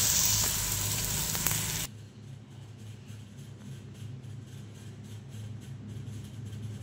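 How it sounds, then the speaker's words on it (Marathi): Onions frying in a pan with chopped tomato and green chilies, a loud steady sizzle at first that drops abruptly to a softer continuous sizzle with light stirring. "कांदे चांगले फ्राय झाले की आम्ही टाकणार आहे बारीक चिरलेला टोमॅटो, 2 हिरव्या मिरच्या"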